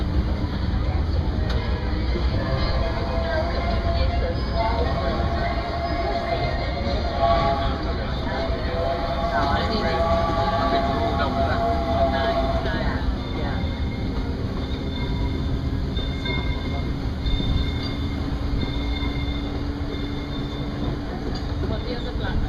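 A steam train on the Disneyland Railroad rumbles steadily along the tracks with a constant mechanical roar, faint squeals and distant voices underneath.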